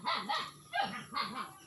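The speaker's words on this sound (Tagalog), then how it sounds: "Tumatawag yung mga aso." Several dogs barking at a house, three bursts of sharp barks about half a second apart, moderately loud and fairly close, with no talk.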